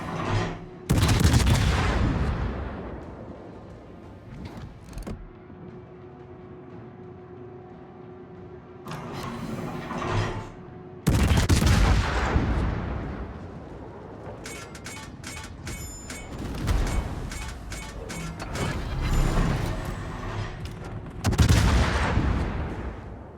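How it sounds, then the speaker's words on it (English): Naval gunfire in World of Warships, with a Hindenburg cruiser in a match, booms out in repeated heavy salvos. The loud blasts come in clusters with mechanical clatter and ringing tails between them, and no talk is heard. "from this point on, there will be constant shooting"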